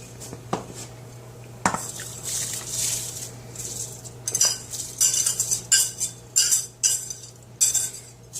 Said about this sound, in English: So I'm going to be now putting in the rice.